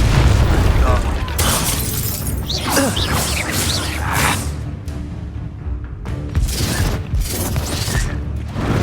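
Confringo blasting spell in Hogwarts Legacy combat: loud booming blasts and whooshes with crackling debris over continuous battle noise, while a voice calls out spells throughout.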